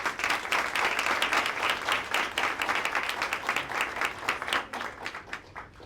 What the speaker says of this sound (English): So let's hear a round of applause for that.